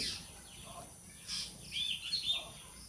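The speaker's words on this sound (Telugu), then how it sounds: "సాయంత్రం అయింది అంటే చాలా పక్షులు వస్తాయండి" A few birds chirp and tweet intermittently at moderate distance over a quiet evening background in a rainy forest.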